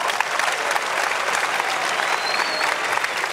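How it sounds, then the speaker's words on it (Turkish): A studio audience at a Turkish televised talent show applauds a telepathy act, with dense, steady clapping from a large crowd filling the whole moment. "Teşekkür ediyorum alkışlar için"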